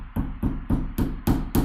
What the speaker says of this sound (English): Get the nails in place and then hammer them.